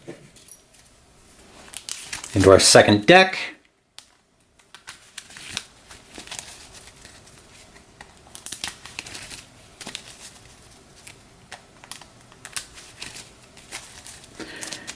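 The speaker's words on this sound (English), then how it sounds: "I'll give this a quick shuffle" A deck of playing cards gets a quick riffle shuffle at a tabletop boxing game: one loud, dense burst of flicking card edges lasting about a second, then soft handling and tapping, with brief speech.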